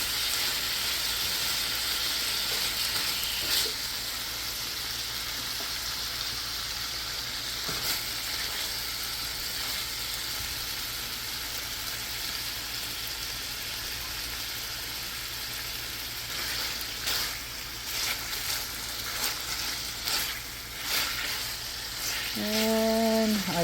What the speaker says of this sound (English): stir frying it for maybe like 1 or 2 minutes, or maybe less because it is already cooking fast